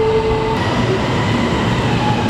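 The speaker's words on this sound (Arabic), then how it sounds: "والله نتسناو دابا حتى يجي دابا المترو" A metro train pulls into a station in Kuala Lumpur, with a loud steady rolling rumble, a whining motor tone and faint rail clatter, and no one speaking.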